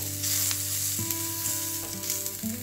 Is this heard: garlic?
yes